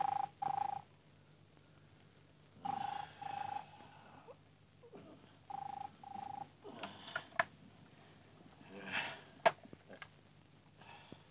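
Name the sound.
telephone ringing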